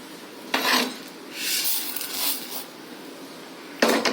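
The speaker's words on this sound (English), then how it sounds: "Now it is time for us to remove this from the pan" Roasted chana dal scraped out of a pan, several close rasping scrapes of a metal spoon against the pan with brief gaps between strokes.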